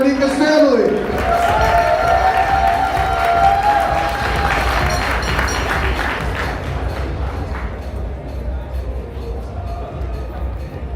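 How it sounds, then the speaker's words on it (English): Guests at a wedding reception applaud and cheer after a speech from the bride's family, a steady crowd of clapping and voices that slowly tapers off, with talking mixed through it. "Can we get a big round of applause, please, for that great speech from Anika's family?"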